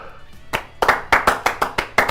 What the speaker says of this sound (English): Clap for us.